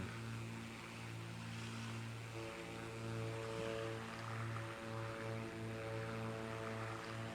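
Steady propeller drone of a small plane throttling up for takeoff in Microsoft Flight Simulator 2024 over Hawaii, a sustained engine hum that rises in pitch partway through and wavers toward the end.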